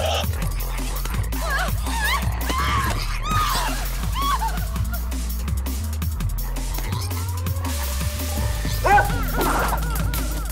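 A cartoon dog barks and yips repeatedly over a busy music track, with squeaky sound effects and voices mixed in.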